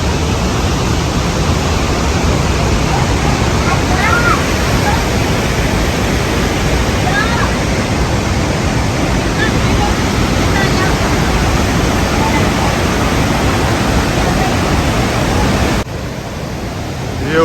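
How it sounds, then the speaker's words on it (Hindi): Steady, loud broadband roar of a waterfall near Quebec City, heard close by and continuous throughout, with a slight drop in level near the end. "इस फॉल का, पानी के गिरने का।"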